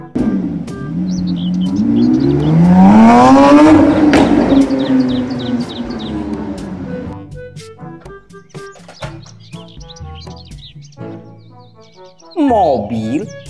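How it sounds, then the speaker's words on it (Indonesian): A race car engine roars in a rising and falling pass-by sweep, loud for a few seconds before fading into lighter chirping sounds, with a brief burst near the end. "Mobil balap."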